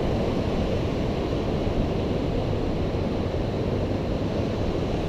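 Ocean surf at the water's edge on the Washington coast, a steady loud wash of breaking waves with wind buffeting the microphone, continuous and close with no voices.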